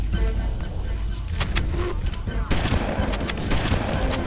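Alien weapons firing in the Halo video game, bursts of gunfire layered over a continuous dense game soundtrack, with sharp shots clustered around the middle and a heavier burst partway through.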